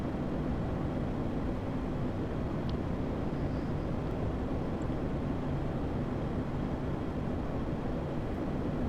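Aircraft in the VRChat Test Pilots game, a steady roaring engine drone with a dense low rumble that holds at the same level throughout, close and unbroken, with no voices.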